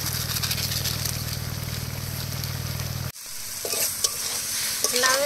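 Bottle gourd shukto cooking down in a pan until its water has dried off, a close steady sizzle with stirring that cuts off abruptly, followed by quieter scraping and clinking of the pan.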